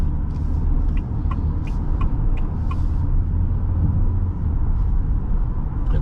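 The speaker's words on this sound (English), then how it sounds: "petrol motor will come in immediately" A 2022 Haval H6 1.5L hybrid petrol engine runs with a steady low rumble inside the cabin while driving, alongside faint road noise and a few light ticking sounds, with no talking.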